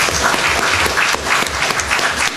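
An audience at a League of Women Voters candidates night, Darke County, 2012, applauds in a steady dense burst of clapping from a room full of people. It is loud and close and continues throughout.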